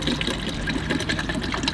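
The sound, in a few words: water being poured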